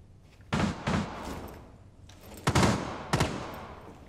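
Gunfire in a Rainbow Six Siege match: several muffled bursts of shots, a couple of them sharp and loud, spaced out over a low background hum, with no talk.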